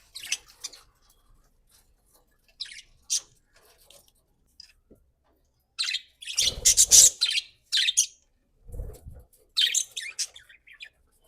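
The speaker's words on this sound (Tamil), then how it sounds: "இந்த நடுவில் உள்ள பார்ட்டிஷனில் நிறைய கிளிகள் இருக்குது" Pet parrots kept in a cage partition, giving scattered sharp chirps and a few louder harsh squawks in short bursts separated by quiet gaps, close by with no talking.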